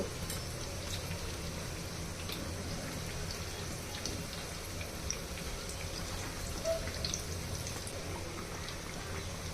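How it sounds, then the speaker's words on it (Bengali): Shaped potato chops (aloo chop) fry in hot oil in a pan. A faint, even, rain-like crackle of bubbling oil continues without pause, and no voices are heard. "চপের একটা পাশ ভাজা হয়ে গেলে অপর পাশটাও উল্টিয়ে দিব।"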